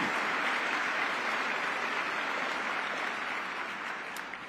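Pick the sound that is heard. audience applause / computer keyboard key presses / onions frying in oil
audience applause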